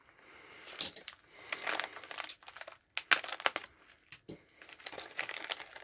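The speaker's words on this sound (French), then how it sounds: "Bien protégé, sous en papier bulle" Bubble wrap crinkles and rustles in bursts, close up and fairly quiet, with brief pauses and a few sharper crackles.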